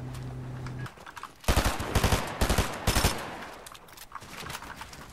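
Rapid bursts of automatic gunfire in the Fortnite video game, several loud clustered volleys in the middle of the clip, with quieter game ambience before and after and no talking.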